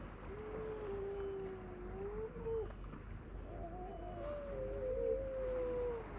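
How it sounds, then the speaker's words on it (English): Seals call near the Hebrides coast around Rum, Eigg and Skye, long wavering moaning wails rising and falling in two drawn-out phrases, moderately distant over soft wind and water. "Probably like to visit the seals you can hear in the background."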